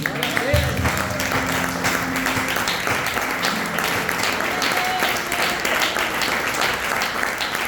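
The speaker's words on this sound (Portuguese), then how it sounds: "Aplauda Jesus, igreja." A church congregation applauds during a family worship service with the Lord's Supper, dense, continuous clapping filling the room, with a faint tone and voices mixed underneath.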